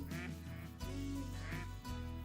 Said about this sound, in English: I've never had ducks up here.